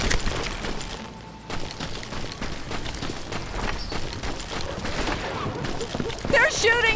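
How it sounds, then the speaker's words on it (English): A street shootout in the Western game Call of Juarez Gunslinger brings dense, rapid gunfire and crackling shots that run continuously, while a voice talks over the noise. "They're shooting in the street!"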